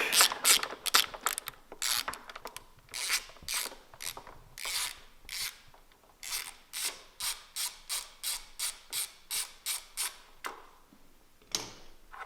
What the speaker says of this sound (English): Take off the rear brake.